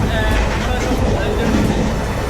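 A loud, steady rumble of a moving train bound for Delhi fills the space, with someone talking over the noise.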